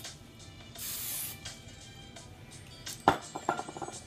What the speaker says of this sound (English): I love hairspray.